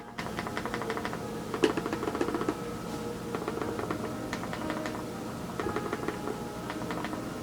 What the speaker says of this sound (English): The clicks on the Classic keyboard is a lot nicer compared to the BlackBerry Q10.